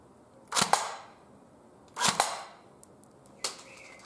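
A CYMA AK47 electric airsoft gun firing in single-shot mode, three sharp separate shots a second or so apart, each a crisp snapping crack heard up close in a quiet room without speech.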